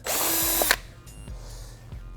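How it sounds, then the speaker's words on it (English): A power drill with a 1/4 inch bit opens a hole in the plastic undertail of a 2012-2016 Honda CBR1000RR motorcycle, a loud close whirring burst under a second that stops abruptly, followed by a few soft handling knocks. "So I'm gonna open up the hole with the 1/4" drill from the top because it's easier."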